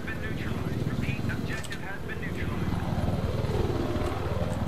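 Rotor and engine of a helicopter in Battlefield 3 drone steadily up close as it flies, with gunfire-like bursts and a voice talking over it.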